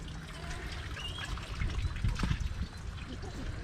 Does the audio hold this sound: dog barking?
no